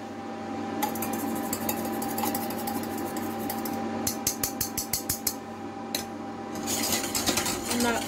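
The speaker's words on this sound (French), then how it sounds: "On continue à mélanger." A spoon stirs an egg-yolk mixture in a bowl, giving steady scraping and a run of quick clinks in the middle, with louder scraping near the end.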